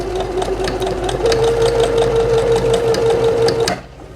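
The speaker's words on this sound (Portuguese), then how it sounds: "Aquilo que eu vou fazer agora é fazer um ponto reto para fixar o elástico." A sewing machine runs a straight stitch to secure elastic on a DIY sewing machine bag: a steady, close, loud mechanical whir with a rapid rhythmic needle clatter that holds for about three and a half seconds, then stops abruptly.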